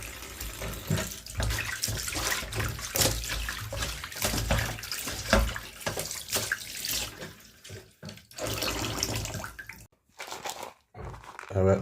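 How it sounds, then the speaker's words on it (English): Tap water runs steadily into a sink as chicken feet are rinsed for Jamaican barbecue chicken foot, a continuous splashing rush with brief pauses near the end; speech occurs in places. "I'm going to add them back in some running water right now"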